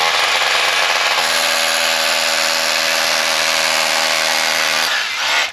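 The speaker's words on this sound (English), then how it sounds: "Now what I'm doing is I'm drilling into any areas of heavy mineralization" A loud, steady grinding drone of a small hammer drill with a 2-foot bit boring into heavily mineralized rock runs continuously for several seconds, then winds down abruptly.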